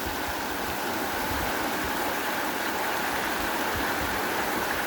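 Water rushing in a steady, loud torrent, like a stream or floodwater pouring downhill, continuous broadband roar with no pauses and no voices.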